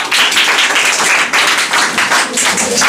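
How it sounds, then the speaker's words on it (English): A small group claps in quick, uneven bursts, fairly close and loud, with no voices over it. "Clap for them."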